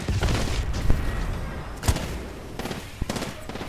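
Hemlok rifle firing in Titanfall 2, several distinct sharp shots and short bursts spaced irregularly through busy combat noise, moderately loud.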